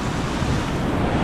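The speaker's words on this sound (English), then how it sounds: "See if we can get some good wave action here." Ocean surf rolling onto Galveston beach on a foggy day, a loud, dense wash of breaking waves and hiss filling the whole moment without pause.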